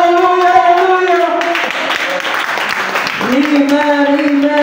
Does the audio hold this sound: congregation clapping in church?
yes